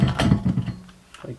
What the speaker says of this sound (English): this drain screws in